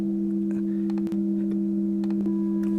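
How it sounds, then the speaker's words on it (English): Two steady pure sine tones hum together, compressed so that faint distortion components sit around them, with soft ticks and clicks scattered over the constant drone. "We got the two fundamental frequencies and the distortion components"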